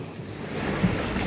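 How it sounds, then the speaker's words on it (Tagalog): Strong wind blows steadily over an outdoor spot near open water, a broad continuous rushing roar that swells slightly toward the end, with no voices. "Hawakan niyo na lang po kasi malakas ang hangin."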